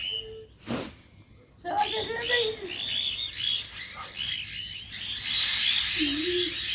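Parrots chirp and squawk repeatedly at a moderate distance, a busy flock of sharp calls, with a voice briefly speaking between them.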